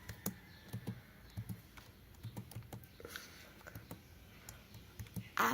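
Irregular, fairly quiet clicking of keys on a computer keyboard, spread through the clip in short bursts over a low room hiss, ending with a brief louder rustle.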